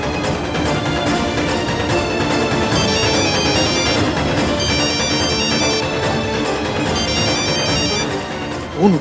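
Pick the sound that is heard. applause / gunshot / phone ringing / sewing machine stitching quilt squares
phone ringing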